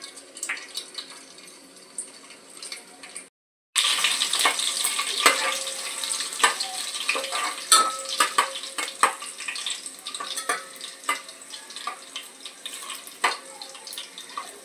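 Curry leaves and chopped garlic fry in hot oil for a crab curry, a steady crackling sizzle with sharp pops and spatters after a brief pause near the start, close and moderately loud with no talking.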